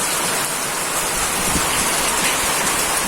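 Steady rain falling in a village during the monsoon season, a dense, even hiss of drops that stays constant and fairly loud, with no voices.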